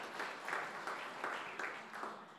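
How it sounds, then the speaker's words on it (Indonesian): A church congregation claps at a sermon, faint and distant, with rhythmic bursts of hand claps repeating roughly every third of a second in a steady pattern. "Tepuk tangan yang meriah untuk kemuliaan namanya."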